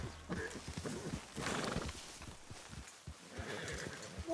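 A horse in Red Dead Redemption II gallops with thudding hoofbeats and lets out neighs and snorts, close and fairly quiet, the hooves pounding rhythmically throughout.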